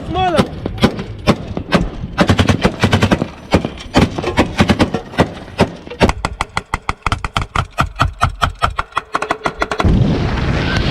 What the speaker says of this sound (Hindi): ये एक्शन वीडियो और ताबड़तोड़ गोलियों की आवाजें आपने साफ सुनी।